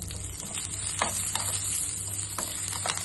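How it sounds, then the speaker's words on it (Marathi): Mustard seeds, asafoetida, urad dal, a dried red chili and curry leaves crackle and sizzle steadily in hot oil, with occasional sharp pops and a stirring rhythm close by. "आता आपण ह्या राई, हिंग, 1 चमचा उडदाची डाळ, 1 लाल सुकी मिरची आणि कढीपत्ता ही फोडणी करून घ्यायची"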